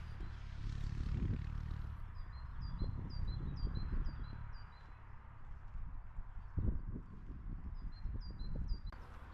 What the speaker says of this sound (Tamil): இந்த பறவைங்க சத்தம் அவ்வளோ, இந்த அமைதியான இடம் அவ்வளோ சூப்பராக இருக்குது.